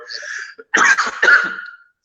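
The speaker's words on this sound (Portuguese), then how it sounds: "Até tossi aqui." A person coughs a few times in quick harsh bursts, close and loud, after a brief throaty sound.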